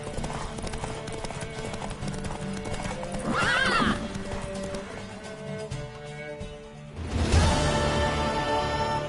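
Horse hooves clip-clop steadily over a background of music in The Witcher 3: Wild Hunt, and a horse neighs loudly once midway, then the hoofbeats grow louder near the end.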